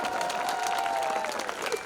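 Applause from the audience at a live comedy show in Ujjain, a steady dense clatter of clapping hands lasting a couple of seconds, with faint voices mixed in.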